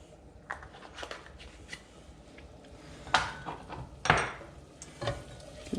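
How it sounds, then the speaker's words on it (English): A spoon scrapes and clinks through turmeric rice with yellow pepper in a pot, giving a few sharp stirring strokes over a faint sizzle, two of them noticeably louder near the end. "Give that a good stir."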